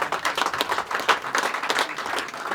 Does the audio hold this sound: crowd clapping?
yes